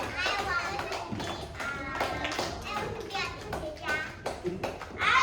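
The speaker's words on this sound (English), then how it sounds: "Everybody clap your hands." Young children in a kindergarten English class clap their hands in loose bursts, mixed with excited kids' chatter and an adult voice throughout.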